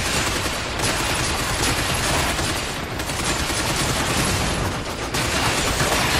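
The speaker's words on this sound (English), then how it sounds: "The guns actually sound pretty good in this" Sustained, dense gunfire from the video game Binary Domain, a continuous loud wall of overlapping automatic shots and bursts with no letup, heard alone without talk.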